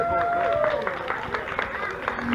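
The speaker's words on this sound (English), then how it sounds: "Diane Hamby, give her a round of applause" Crowd applause at a 2016 Iredell County political rally, a dense steady clapping with cheering voices and chatter mixed throughout.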